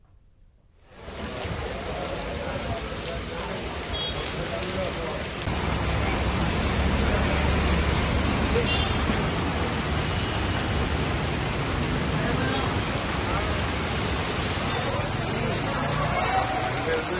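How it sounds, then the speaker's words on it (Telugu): Heavy rain falls steadily in Hyderabad as a continuous, dense roar that starts abruptly and swells a little louder after a few seconds, then holds unbroken throughout. "హైదరాబాద్లో నిన్నటి నుంచే వర్షం కురుస్తోంది."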